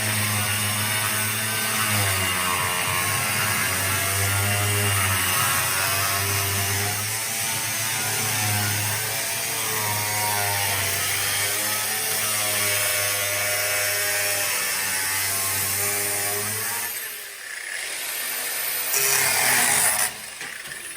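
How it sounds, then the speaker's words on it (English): A grinder fitted with a flap disc grinds the drip rail off a 1968 Camaro, giving a loud, continuous high whine with wavering pitch as the disc bites into the metal, then a brief dip and rough bursts near the end. "This type of grinder, flappy disc I call it, that I'll use."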